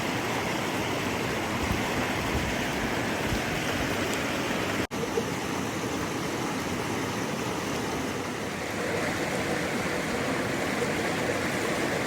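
Steady rushing of a large mountain creek, loud and close, a continuous broadband wash of flowing water with no voices.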